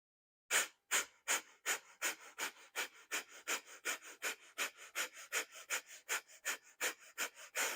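Rapid, forceful rhythmic breaths during a yoga breathing round, about twenty sharp puffs in a steady quick pulse after a brief silence, close and clear with no talking.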